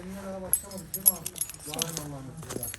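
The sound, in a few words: car keys jangling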